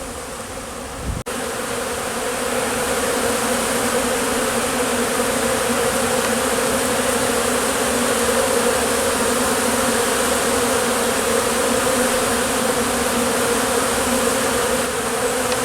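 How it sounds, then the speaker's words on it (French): Honeybees flying around beehives at an apiary, a dense continuous buzzing swarm that stays steady and loud from start to finish, with a single brief knock near the beginning. "Que ce soit dans le rucher couvert ou le rucher extérieur, ça vole bien."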